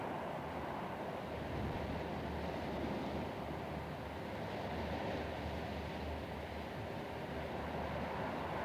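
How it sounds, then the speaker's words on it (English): Steady coastal wind blows around a Gold Coast chairlift, a constant low rumbling roar with a faint hum underneath and no voices. "swaying a bit in the unceasing coastal wind"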